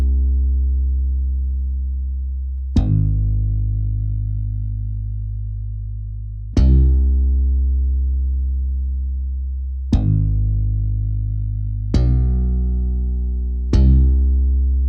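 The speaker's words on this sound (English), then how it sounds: "is slap bass out of the basses" Layered slap bass notes from the Expand plugin in a hip-hop beat, five sharp plucked attacks each ringing out with deep sustained tone and slow decay, played alone.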